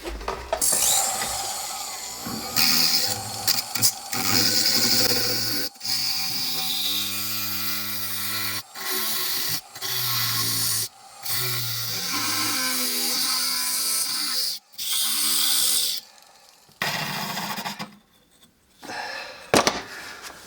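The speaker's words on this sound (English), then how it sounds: "right now I'm going to cut off some of this backer board that I just will not be using" Excess backer board is cut off around a large fossil needlefish being prepped, in repeated short bursts of a whining, buzzing power tool separated by brief pauses.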